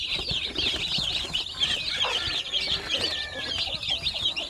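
Chickens on a poultry farm cluck steadily while feeding, a dense overlapping chorus of close, busy calls with occasional wing flaps and no talking.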